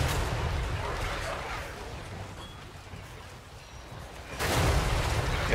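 Artillery fire in the Total War: Warhammer 3 battle game, a dense rumbling wash of distant booms and gunfire under a speaking voice, swelling into a louder burst near the end.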